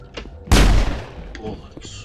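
Gunfire in the video game Mass Effect: one heavy, booming shot with a sharp attack and a rumbling tail, followed by fainter scattered pops, with a voice speaking around it.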